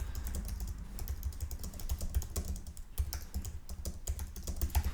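Fast, steady typing on a computer keyboard, close and clear, with rapid irregular key clicks and no talk.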